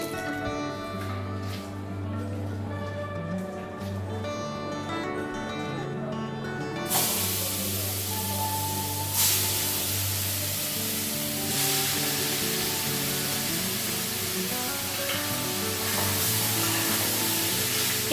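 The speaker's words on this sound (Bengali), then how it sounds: "এখানে মাছটা ভাজা বসিয়েছি" Hilsa fish sizzling and spitting in hot oil, a steady broadband fry that swells louder partway through and continues alone with no talking.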